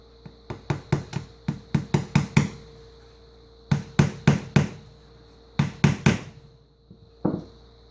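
Nails being tapped lightly into a wooden cornhole board with a hammer, close and sharp knocks in three quick bursts of several rapid strikes each, then a final single tap, no voices.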